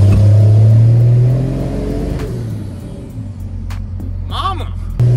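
A Cummins diesel engine in a truck, loud and close, droning at a heavy idle then easing off, with a brief rising rev near the end and people talking over it.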